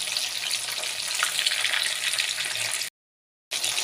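Chicken kabab fries in a pan in Kerala style, giving a steady, loud, close sizzle with crackling spatter throughout. The sound cuts out briefly near the end, then resumes.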